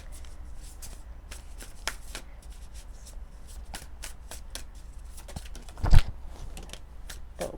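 Oracle cards are shuffled close up, with repeated soft riffling flicks and card slaps in an uneven rhythm and a sharper knock near the end.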